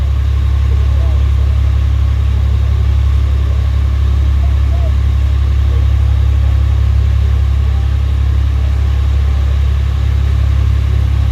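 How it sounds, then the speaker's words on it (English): Marine diesel engines aboard a fishing boat about three miles offshore near Bodega Bay, a loud, constant low drone and rumble that holds steady throughout with no change in pitch. "marine diesel engines down there."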